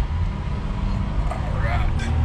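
A Chevrolet Traverse Premier AWD pulls away from a stop, its engine rumble low and steady inside the cabin, with a faint rising whine near the end.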